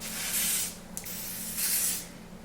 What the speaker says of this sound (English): We are going to be using a little bit of lace spray to lay this lace down today.